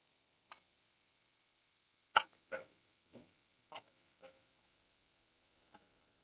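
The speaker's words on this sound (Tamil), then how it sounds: "பட்டர்ல நம்ம எடுத்து வச்ச பட்டை லவங்கம் ஏலக்காய் எல்லாத்தையும் போட்டுருணும்" Cinnamon, cloves and cardamom dropped into melted butter for paneer butter masala, giving a few faint, scattered pops and crackles at irregular intervals over near silence.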